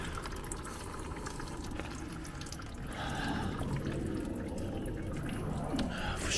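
Coolant draining out of a car radiator, a steady splashing trickle of liquid that gets fuller and louder midway, with faint voices in the background.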